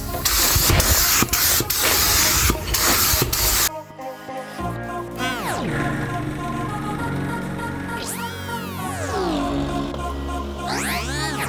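Aerosol spray paint hissing in a long broadband burst, applied as a light dusting coat over car headlights for a 7th-generation Honda Accord, then cutting off as music plays.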